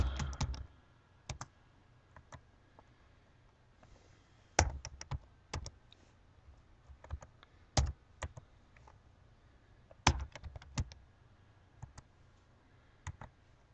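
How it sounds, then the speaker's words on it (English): Someone types on a computer keyboard in a quiet room, with irregular bursts of crisp key clicks separated by pauses. "I'm going to be quiet. I'm just going to type"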